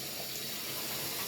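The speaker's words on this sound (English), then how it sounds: "let me turn the water off. I hate that when the water makes all that noise when I'm trying to record." Tap water runs steadily from a faucet into a sink, a continuous broadband splashing hiss at close range, with no talking over it.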